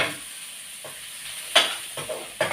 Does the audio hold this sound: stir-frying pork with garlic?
yes